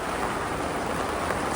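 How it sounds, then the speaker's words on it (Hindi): Heavy rain pours down in a dense, steady roar of drops hitting surfaces, continuous and fairly loud with no voices over it. "ओह माय गॉड, बहुत तेज बारिश स्टार्ट हो गई है।"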